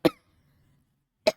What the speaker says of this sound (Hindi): सॉरी बच्चों, थोड़ा खांसी आ गई।